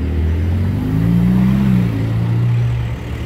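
A Ferrari F8 engine accelerating on a Monaco street, a loud deep rumble with a rising and falling rev that swells mid-clip and holds, close by and heard alone.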